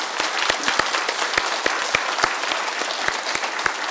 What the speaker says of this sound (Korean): 크게 한번 격려의 박수 한번 줍시다